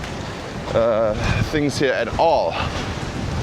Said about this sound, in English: this is very strong wind guys